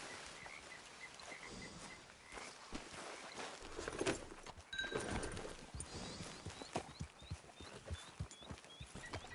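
Horse hooves clip-clopping on the ground in the video game Red Dead Redemption 2, a steady walking rhythm at moderate distance with faint birdsong and outdoor ambience around it.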